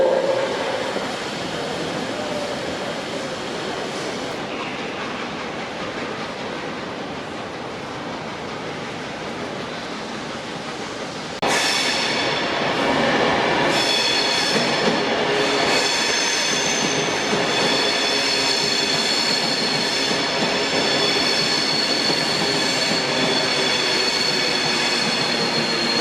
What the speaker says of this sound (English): And now 47826 makes its way to the other end of the train.